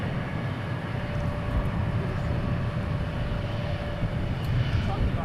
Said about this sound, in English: Next departure, American 555, an A321